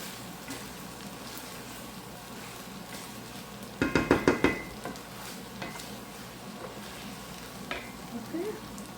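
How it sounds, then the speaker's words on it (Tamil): Noodles are stir-fried in a pan with a constant low sizzle, broken by a quick cluster of sharp metallic spatula scrapes and clanks in the middle, then a few lighter knocks near the end. "சூப்பரான ஒரு நூடுல் பரட்டியாச்சு"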